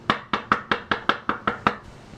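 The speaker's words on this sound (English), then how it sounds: "I hear a rap at the door." Nine sharp, evenly spaced knocks on a door in quick succession, loud and close, followed by quiet.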